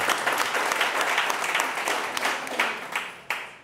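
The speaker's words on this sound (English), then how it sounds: "give him a round of applause" An audience applauds a speaker at a conference panel, dense continuous clapping with a few louder individual claps standing out toward the end.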